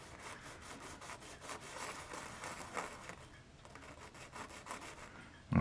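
Sandpaper rubs back and forth across the wooden hull of a model ship in rhythmic, soft rasping strokes, close and quiet, ending with a sudden low knock.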